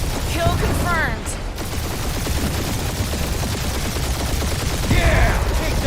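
Rapid bursts of blaster-style gunfire in the Guardians of the Galaxy video game, a dense, continuous rattle of shots close and loud, with whooshing effects and voices talking over the firefight.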